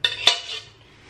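A metal cooking pot clatters and clinks as it is set down and handled for soaking in a home kitchen, two sharp close knocks followed by a fading ring.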